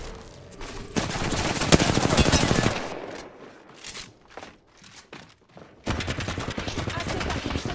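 Gunfire in the video game Apex Legends, dense bursts of rapid automatic shots at close range, with a lull of scattered single cracks and footsteps in between before the heavy firing resumes.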